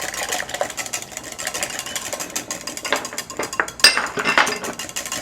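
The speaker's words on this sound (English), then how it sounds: "Whisk that in really good." Eggs, melted butter and other wet ingredients are whisked together in a bowl for a Salisbury steak dinner, giving a busy, steady clatter of whisk wires against the bowl, close and continuous with a few sharper knocks.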